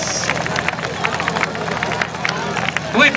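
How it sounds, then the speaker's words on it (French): Audience applause for a performer at a St. Hyacinthe event in 2013, a dense patter of many hands clapping against a crowd murmur, steady across the moment and swelling slightly near the end. "Bonne main d'applaudissement, s'il vous plaît,"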